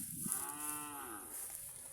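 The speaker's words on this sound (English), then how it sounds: "The mother cow might get angry." A single drawn-out moo from a mother cow with her calves in African countryside, fairly close and clear against quiet surroundings.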